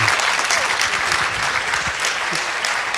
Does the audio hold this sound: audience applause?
yes